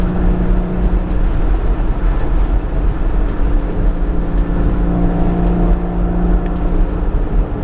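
A modded Porsche 987.2 roars steadily through a hard 0-60 acceleration pull, its engine drone loud and continuous throughout, with no talking over it.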